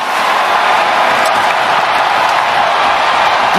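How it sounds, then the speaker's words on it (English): A hockey arena crowd roars continuously as a late goal secures a big comeback, a loud, dense wall of cheering with no break, heard alone without commentary. "Listen to this crowd."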